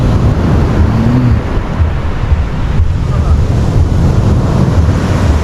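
Ocean waves wash steadily onto a beach at Port Royal, Jamaica, in a constant loud surf roar mixed with heavy wind buffeting on the microphone.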